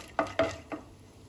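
Chana dal stirred into hot oil in a pan, with three quick scraping, sizzling strokes, the first two sharp and close and the third softer, over a faint steady fry.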